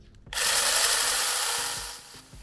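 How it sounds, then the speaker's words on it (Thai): A 4-inch cordless electric mini chainsaw bites into star gooseberry wood with a sudden loud, steady buzzing rasp lasting about two seconds, then winds down, close and with no talking. "ไม้มะยมนะก็ตัวเลื่อยเนี่ยสามารถตัดเข้าได้ง่ายมากเนื่องจากเนื้อไม้เนี่ยไม่ได้แข็งมากนั่นเอง"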